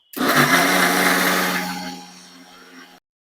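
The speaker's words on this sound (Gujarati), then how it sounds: "હવે આ બધી વસ્તુને સરસ એવી પીસી લેશું." Mixer grinder whirring loudly as it grinds ingredients into batter for sev khamni, a steady high-pitched motor roar that gradually eases in pitch and loudness before cutting off.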